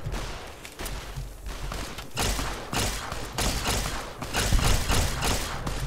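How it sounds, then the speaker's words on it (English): Gunfire in Fallout: New California, a Fallout New Vegas mod, aimed at a mutant javelina: a rapid, uneven volley of nearby shots and thuds overlapping in bursts throughout. "They're firing at mutant javelina."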